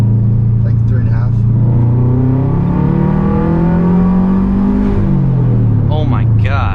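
A turbocharged 4-cylinder 2009 Subaru WRX accelerates hard in second gear from low speed, its loud engine note climbing steadily in pitch from inside the car, with passengers talking over it.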